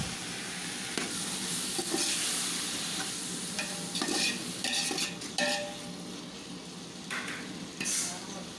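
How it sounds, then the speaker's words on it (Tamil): Tomatoes sauté with ginger garlic paste in a pan for mutton dum biryani, with a steady, close sizzle and a spoon scraping and clinking against the pan as the mix is stirred. "நம்ம நறுக்கி வச்சுருக்க தக்காளி இது கூட ஆட் பண்ணி மறுபடியும் நல்லா வதக்கணும்"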